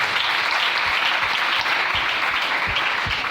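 A church congregation applauding during a French-language sermon, steady dense clapping from a crowd that fills the room, loud and continuous throughout.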